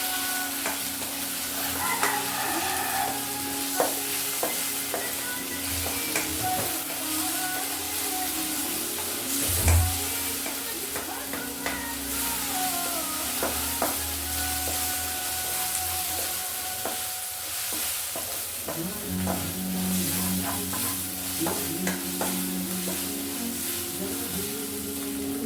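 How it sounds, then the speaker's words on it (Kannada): Onions with ginger garlic paste stirred and frying on a tawa for pulao, a steady sizzle with repeated scraping stir strokes and occasional clinks, close and continuous with no talking. "ಇದನ್ನು ಹಾಕಿ ಒಂಚೂರು ಮಿಕ್ಸ್ ಮಾಡೋಣ."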